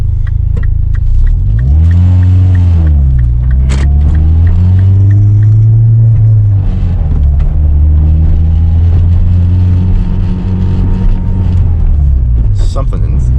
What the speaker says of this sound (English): It's a noisy little car.